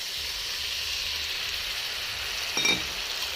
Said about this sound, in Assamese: ঔটেঙাখিনি ভাজি হৈছে, এতিয়া মই তাতে দি দিম পিঠাগুড়িখিনি